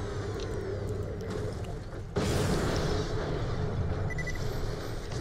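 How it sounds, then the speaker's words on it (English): A grenade blows up in the video game Borderlands: The Pre-Sequel, a sudden loud blast partway through that cuts into ongoing gunfire and game noise and then lingers as a rumbling wash. "Yeah, eat all that grenade."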